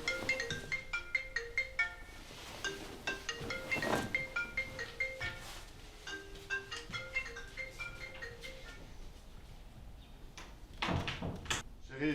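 A melodic telephone ringtone plays loudly and repeatedly in a home in a French-language drama film, its bright tune cycling for the whole stretch with faint background voices.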